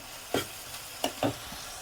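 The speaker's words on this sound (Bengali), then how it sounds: "এই যে মশলাটা ভালো করে কষিয়ে নিলাম" Spice paste is fried and stirred in a pan, ready for lotte fish to be added: three quick spatula scrapes stand out over a faint, low sizzle.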